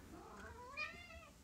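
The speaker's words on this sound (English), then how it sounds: "you guys can hear my cat meowing at me" A single drawn-out cat meow rises and falls, faint and a little distant against a quiet room.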